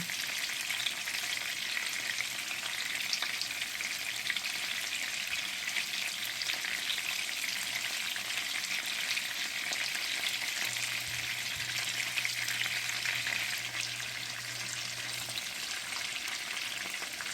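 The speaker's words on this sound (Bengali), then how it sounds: "মুঠো কাবাব কিন্তু এইরকম তেলেই ভাজতে হয়" Chicken muthi kebabs frying in oil: a dense, even, hissing sizzle that runs unbroken and close for the whole stretch, with no speech.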